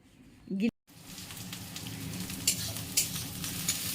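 Chili and onion fry in a pan with a steady, rain-like sizzle and a few sharper pops. A brief voice is heard at the very start, then it cuts out before the frying continues.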